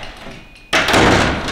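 After a quiet moment, a door slams shut once with a loud, close, heavy thud that carries into a lingering rumble.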